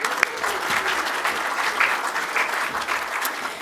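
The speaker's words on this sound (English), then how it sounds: "And a round of applause." Audience applause at a biennial gathering, a steady dense wash of many hands clapping throughout, fairly loud and unbroken with no speech over it.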